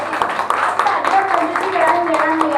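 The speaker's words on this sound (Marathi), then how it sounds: "त्या सगळ्यांनी जोरात टाळा पाहिजे टाळ्या" An audience claps at the inauguration of a poetry book, 'Praktan', at a cultural centre, with sharp claps mixed under a loud voice speaking close by over the clapping.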